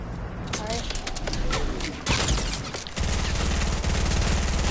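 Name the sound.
gunfire from a video game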